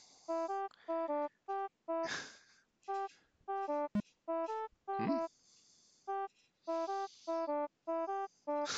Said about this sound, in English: I guess that sound is the boombox.